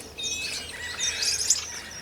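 Strawberry finches chirping around their nest high in a garden tree, a busy overlapping chatter of thin, high tweets and trills, close and steady without pause.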